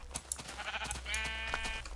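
Sheep bleat in the Minecraft video game in a few close, clear, wavering calls over about two seconds, with no talk.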